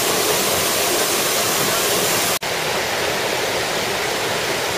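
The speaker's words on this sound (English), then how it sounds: "this is what it's like underneath a waterfall." Loud, steady roar of a mountain waterfall in Norway heard from directly underneath, a dense unbroken wash of falling water that holds for the whole stretch apart from one split-second dropout.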